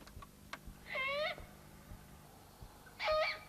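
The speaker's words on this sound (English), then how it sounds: "It could be an immature great horned owl." Two shrill, raspy screeches, each lasting about half a second and separated by a long pause, from an immature great horned owl calling from some distance.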